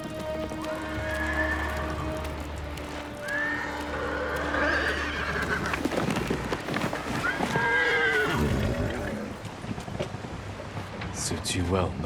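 A horse neighs and whinnies in Ghost of Tsushima, with clip-clop of hooves and a voice talking over the calls, several whinnies spread across the scene.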